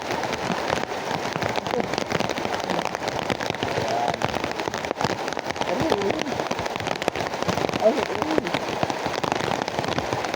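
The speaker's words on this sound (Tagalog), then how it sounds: "Bakit? May ulan." Heavy rain pours steadily and close, with a continuous dense patter on a surface that never lets up.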